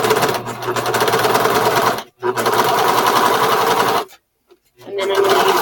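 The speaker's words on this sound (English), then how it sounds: "I'm just going to use my serger, and I am just going to serge along this" A serger overlock sewing machine stitches a T-shirt band in rapid, loud mechanical bursts, with two brief pauses, the second one a full stop before it starts up again.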